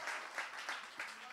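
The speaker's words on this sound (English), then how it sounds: "So let's cheer for the parents" An audience applauds the parents at a talk on creativity in the age of AI, steady moderate clapping from a crowd with a voice faintly underneath.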